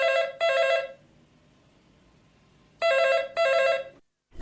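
A telephone rings for an incoming call, two double rings separated by a long silence, close and clear with no talking.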